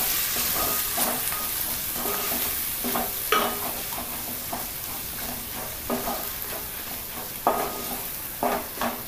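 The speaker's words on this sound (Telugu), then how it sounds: "వేసి ఒకసారి బాగా కలియబెట్టండి." Egg pulao ingredients, with coriander powder just added, sizzle steadily in a pan while a spoon stirs them, giving repeated scraping clinks against the metal over a constant frying hiss.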